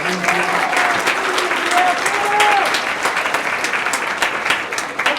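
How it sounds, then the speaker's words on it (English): An audience at a high school rally applauds in a dense, steady wash of clapping, loud and close, with a few brief voices and cheers mixed in. "Big round of applause"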